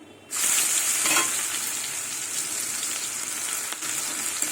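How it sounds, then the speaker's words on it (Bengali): Chopped onion drops into hot oil with nigella seeds and dried chilli and bursts into a loud, bright, continuous sizzle that holds steady, close by and with no voices. "পেঁয়াজটা আমি লাল লাল করে ভেজে নেবো"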